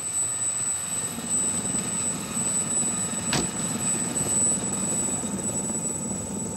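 A helicopter in flight produces a steady, loud rotor and engine drone that holds evenly throughout, with a thin high whine riding on top.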